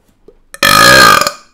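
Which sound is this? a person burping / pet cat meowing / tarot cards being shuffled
a person burping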